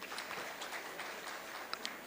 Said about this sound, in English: please give a big round of applause to all of them